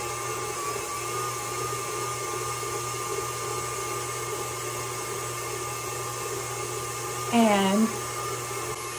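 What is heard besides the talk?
electric mixer beating cheesecake batter with egg and cream cheese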